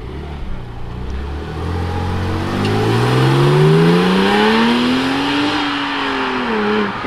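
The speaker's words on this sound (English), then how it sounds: "That's a 996 turbo." A silver Porsche 996 Turbo drives past at a supercar meet, its engine note climbing loudly through the gears with a rising, close pass and a fading tail.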